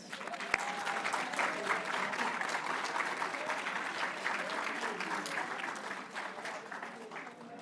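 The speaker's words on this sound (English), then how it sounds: "Let's have another round of applause for our graduates" Graduates at a metro operations graduation and promotion ceremony receive sustained applause from the audience, a thick continuous round of clapping that holds steady and fades slightly toward the end.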